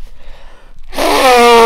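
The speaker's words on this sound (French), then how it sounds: "Déjà, on va se moucher ensemble." A person blows their nose: a quiet, breathy lead-in, then a sudden, loud, sustained honking blast of air close up that carries on to the end.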